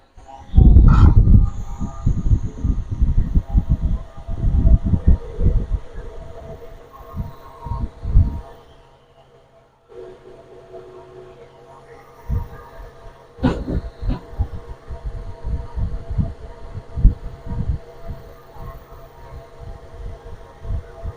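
Two electric motors of 1000 and 1200 watts run together with a steady low hum, broken by loud, irregular knocks and clatter nearby and a short quiet gap partway through.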